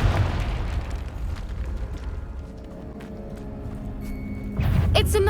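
A Confringo blasting curse in Hogwarts Legacy sets off a deep booming explosion that rumbles and decays, followed near the end by a fresh burst of impact and crackling debris.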